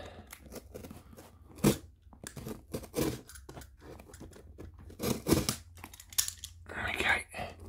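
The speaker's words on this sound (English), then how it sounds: "So just got this package in the post from Amazon. So we'll open it up." An Amazon parcel holding a TP-Link AV600 powerline Wi-Fi kit is cut and torn open up close, with bursts of ripping, crinkling packaging and scissor snips between pauses, and a person talking briefly.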